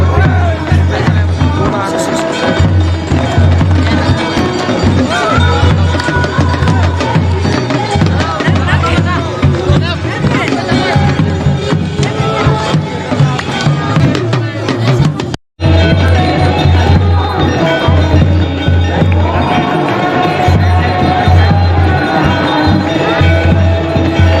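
Large, dense crowd of pilgrims at Kedarnath temple during aarti, a continuous murmur of many voices close around, with a brief drop-out midway.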